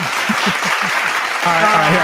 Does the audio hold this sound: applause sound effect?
yes